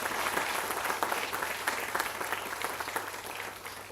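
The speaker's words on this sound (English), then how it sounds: "a big round of applause for all the respected dignitaries on stage" A large hall audience at a university student induction program applauds dignitaries on stage, a broad, even roar of clapping from many people, slightly distant and sustained, with no voices over it.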